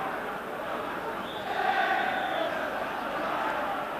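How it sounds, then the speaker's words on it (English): A big, noisy football crowd roars steadily at Easter Road stadium during a Hibs versus Rangers match, a dense, continuous wash of massed voices that swells slightly partway through. "the match is underway here at Easter Road in front of a big noisy crowd"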